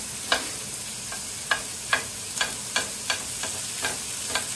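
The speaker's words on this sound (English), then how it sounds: "let's break up this bacon because we need this in thin little pieces" Bacon frying in a Teflon pan for carbonara, a steady bright sizzle with regular soft taps as a wooden spoon breaks it up, close and continuous, with no voice.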